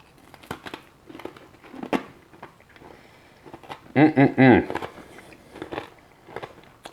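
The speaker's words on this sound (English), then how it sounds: "Let me just take a bite of my thick cut bacon." A single crunchy bite into thick cut bacon, a short burst of crisp crackling after quiet room noise and faint movement, followed by softer chewing sounds.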